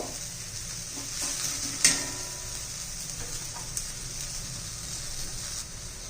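Bajra millet flour dosa batter frying on a hot pan, giving a steady soft sizzle with faint scraping and one small sharp tap, close by and quiet, with no voices.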